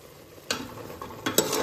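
A spoon scrapes and stirs curry in a pan with homemade ground spice paste and water, giving three or four brisk strokes over a steady low sizzle, close and fairly quiet, with no talking.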